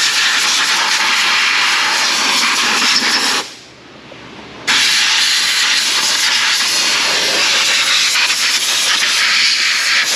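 A compressed-air blowgun blasts dirt off a Ford Mustang GT 4.6 engine, a loud, close, continuous hiss broken by one brief pause before resuming.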